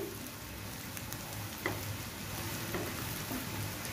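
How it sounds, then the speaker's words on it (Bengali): Spice paste with small dried shrimp frying in a pan, a continuous soft sizzle with occasional light stirring taps, fairly quiet and steady throughout. "পেস্টটা কিছুক্ষণ ভেজে আমি এখানে এখন গুড়া চিংড়ি মাছগুলো অ্যাড করে দিচ্ছি"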